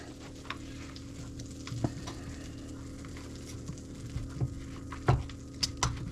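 Pork cracklings from rendered lard frying with butter in a pan, giving a steady low sizzle with scattered pops and utensil taps against the pan.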